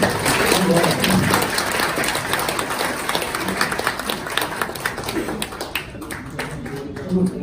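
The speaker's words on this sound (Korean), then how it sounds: "박수 한 주세요." Audience clapping at a lively Korean variety event, a dense patter of hand claps that starts loud and slowly thins out over several seconds, with voices mixed into the background.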